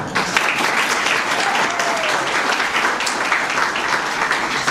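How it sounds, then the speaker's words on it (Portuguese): Sustained applause from a gathered group at a youth tourism industry event, thick and continuous clapping filling the room at close range throughout. "Aplauso para nós também."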